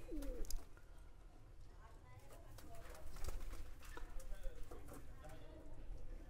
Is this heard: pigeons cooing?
yes